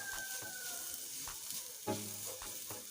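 Spice masala roasts in a pan with a soft, steady sizzle and a few quiet scraping stirs, heard close and faint with no talking.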